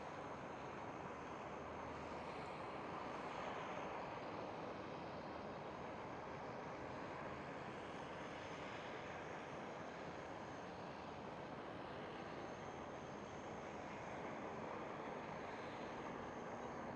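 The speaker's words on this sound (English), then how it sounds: "And I do see an Air France A220 pushing back." At Amsterdam Schiphol an Air France Airbus A220 pushes back, heard as a faint, steady distant engine hum and broadband airport rumble with no talking.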